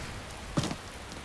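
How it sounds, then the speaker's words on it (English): Rain falling in the Skyrim video game makes a faint, steady hiss throughout, with a brief louder thump about halfway through. "Don't you just love a bit of rain?"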